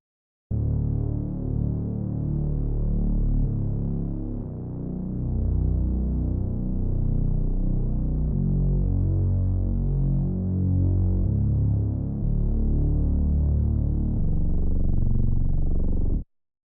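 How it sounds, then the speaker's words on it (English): A thick, low synth bass patch from Vital's Respace gravity preset with EQ cutting the highs and boosting the lows, droning steadily with a throbbing pulse for about sixteen seconds, loud and alone. "the respace. I believe it's a default effect in Vital that comes with it"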